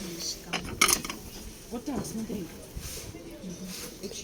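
Dessert plates being picked up and set down at a flea market stall, a few sharp ceramic clinks, the clearest near the start, amid light rattling while a person talks nearby.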